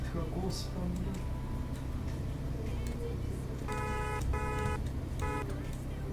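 Short bursts of a synthetic car horn honk several times in a row, fairly clear over a steady engine hum and background game noise, in Roblox Brookhaven.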